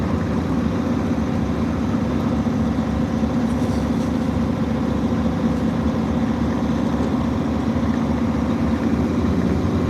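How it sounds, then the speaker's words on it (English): A semi truck engine fitted with a bigger exhaust tip but the stock muffler rumbles steadily at idle, a loud, deep, continuous drone with no talk over it. "We just put a bigger exhaust tip on, and it's much louder."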